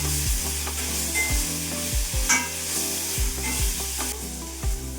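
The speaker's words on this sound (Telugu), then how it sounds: "అల్లం వెల్లుల్లి పేస్ట్ వేసుకోవాలి. పచ్చివాసన పోయేదాకా అది వేయించుకోవాలి" Ginger garlic paste sizzles and fries in a hot pan for a prawn and cucumber curry, with steady scraping strokes of a spoon stirring it repeatedly, close and fairly loud throughout.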